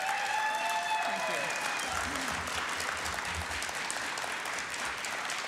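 Audience applause at a political debate between two candidates, a steady sustained clapping from a crowd that continues evenly throughout, with a voice speaking briefly at the start.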